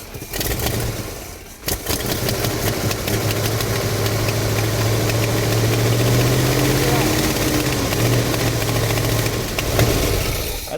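Junkyard engine for a 1973 Buick Century restomod fired on fuel poured into the carburetor bowl, catching after a brief crank and settling into a steady, loud, slightly uneven idle that runs continuously to the end, with a few voices faintly over it.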